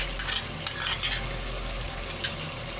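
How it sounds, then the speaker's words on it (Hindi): Minced keema with potatoes and peas fries in a pan, a soft steady sizzle broken by a few scraping stirs and light clinks of a spoon against the metal. "दो से 3 मिनट हो चुके हैं भूनते हुए।"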